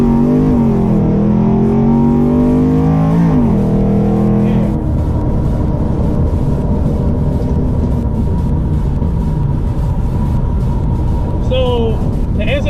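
A cammed 2012 Chevy Camaro SS with nitrous accelerates hard, its engine note climbing through a gear before shifting into a loud, steady roar heard from inside the car.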